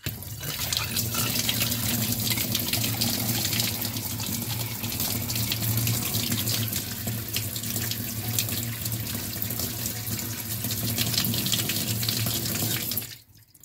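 Tap water runs steadily into a sink drain being tested for clogs, a continuous loud gush that holds evenly for about thirteen seconds before stopping abruptly.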